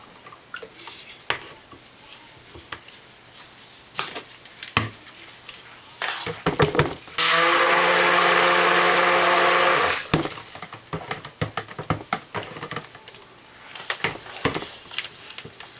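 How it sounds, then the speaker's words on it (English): A stick blender whirs steadily for about three seconds as it mixes pink grapefruit cold-process soap batter, set between scattered clinks, taps and clatter of handling the container and utensils. "and then I give it a little zap with the stick blender."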